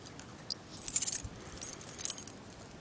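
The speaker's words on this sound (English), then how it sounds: "Look at the key on this." A car key fitted with a remote transmitter for keyless entry jangles close by in a few short metallic bursts, with no talking.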